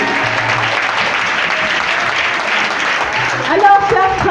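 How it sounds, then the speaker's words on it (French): Congregation at a church gathering clapping for Jesus Christ, a dense continuous patter of applause throughout, with voices mixed in and a brief louder swell near the end. "Alors acclamons très fort pour le Seigneur Jésus-Christ"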